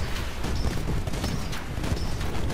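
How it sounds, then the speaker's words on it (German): Rocket salvos from a Titan in the video game Titanfall thump in a rapid, dense barrage of booming launches and impacts, loud and continuous throughout. "Können hier schön Raketensalven auf den Kollegen drauf schießen"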